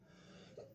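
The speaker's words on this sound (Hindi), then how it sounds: "थोड़ा सा खांसी हो गया" A single short cough from someone narrating a Hindi current-affairs lesson, close to the mic and briefly breaking a low steady background.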